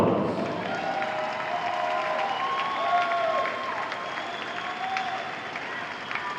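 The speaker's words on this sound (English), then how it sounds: "let's give the Solar FC a round of applause" A crowd at the 2013 Development Academy U-15/16 championship ceremony gives Solar Chelsea FC a steady round of applause, a dense wash of clapping with faint whistles and cheers mixed in, carrying on evenly throughout.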